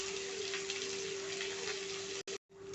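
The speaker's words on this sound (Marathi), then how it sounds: "कांदे व्यवस्थित तेलावरती छान असे आता भाजून घ्यायचे आहेत" Sliced onions frying in oil for a chicken handi gravy masala, a steady close sizzle with a constant tone running through it, cut briefly by a dropout near the end.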